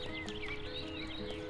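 A horse neighs in the Mein Pferd video game, a wavering high whinny with a few breathy squeals over a low steady hum.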